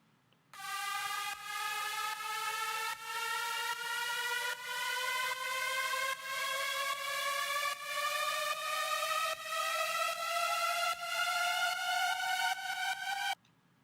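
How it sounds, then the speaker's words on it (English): A synth riser in a riddim drop: a sustained buzzy tone sweeping steadily upward in pitch for about thirteen seconds, pulsing in an even rhythm, then cutting off abruptly. "I have this little riser that helps bring a little more energy"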